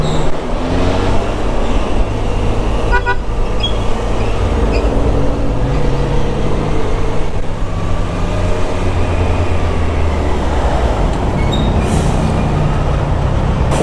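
Continuous rumbling traffic noise heard from a motorcycle with an Akrapovic exhaust riding through the narrow roads of Lipa. Engine drone, tire roar and wind mix steadily, with a few faint squeals and tonal whines over the din.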